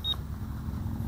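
A FrSky radio transmitter timer gives a quick pair of short, clear beeps at the start, then falls silent over steady outdoor wind rumble during a micro FPV racing drone flight.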